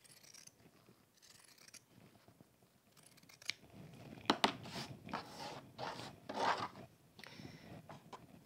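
Pinking shears snip through fabric while making a stuffed Tilda goose toy: a series of crisp, crunchy cuts, sparse and quiet at first, then louder and closer together in the second half.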